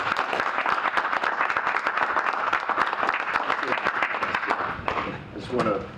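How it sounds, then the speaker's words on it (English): An indoor audience gives a warm round of applause for a city mayor at a Newark business event, dense clapping holding steady for several seconds before thinning out near the end. "give the mayor, the Honorable Ras Baraka, a warm round of applause."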